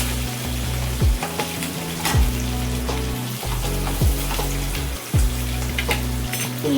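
Green chillies and curry leaves fry in hot oil for an upma, giving a continuous close sizzle broken by a few sharp spattering pops and a low steady hum beneath.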